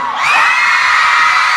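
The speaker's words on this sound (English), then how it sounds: "if you guys keep screaming over them, then you can't hear them talk" Large crowd of fans at a SHINee fan meeting in Dallas screaming and cheering together, a loud sustained high-pitched roar that rises and holds for the full moment.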